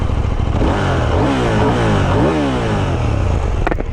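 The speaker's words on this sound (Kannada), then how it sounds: "exhaust note" A KTM 890 Duke R motorcycle engine revving hard, its loud, close exhaust note rising and falling through several quick throttle blips over a few seconds.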